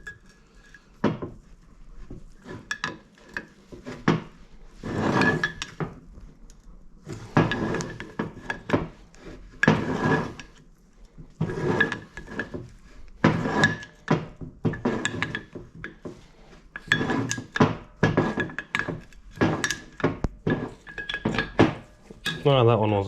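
Pistons come out of a Brembo brake caliper from a Mitsubishi Evolution as a screwdriver pries them free, producing a run of sharp metallic clinks, scrapes and knocks in uneven bursts, with a person talking in between.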